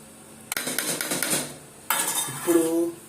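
Mutton curry being mixed in a pot, with a sharp metal clatter followed by bursts of spoon-on-pot scraping and clinking, close and fairly loud.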